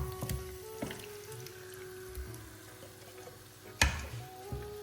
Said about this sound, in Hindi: अदरक लहसुन का जैसे पेस्ट पक चुका है तो हम डालेंगे चिकन